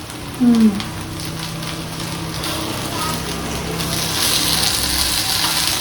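Fish-shaped pieces of dough fry in hot oil, giving a steady close bubbling sizzle that swells slightly louder toward the end, with a brief clunk near the start.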